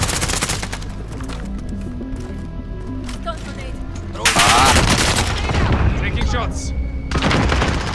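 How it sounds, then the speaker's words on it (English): Video game gunfire breaks out in bursts: a few scattered shots, then a loud, dense volley of automatic fire near the middle, with more sharp cracks after it. "Shots."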